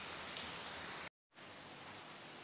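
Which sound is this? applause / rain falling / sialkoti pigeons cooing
rain falling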